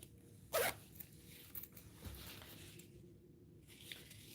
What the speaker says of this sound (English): This is the holster. It is made, so it zips.